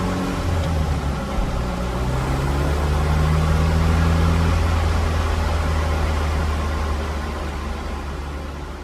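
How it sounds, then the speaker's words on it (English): Test vehicle engine pulling up a big hill, a steady broadband drone that swells as it labors, then eases off as the gear changes, continuous and fairly close with no voices. "Here's a big hill, we'll go for a gear shift."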